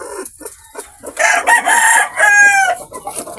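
A tethered rooster in a backyard crows loudly and nearby, one full cock-a-doodle-doo rising over scattered clucks and soft farmyard chatter from the hens around it.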